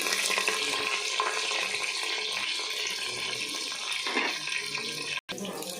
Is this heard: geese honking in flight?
no